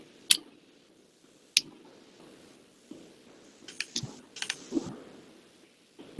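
Someone types on a computer keyboard with a few sparse, sharp key clicks, then a quick cluster of taps near the end, all quiet and close.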